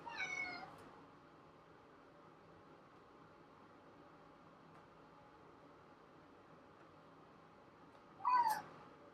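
Two meows from a house cat, one at the start and another near the end, with a faint steady hum of room noise between them.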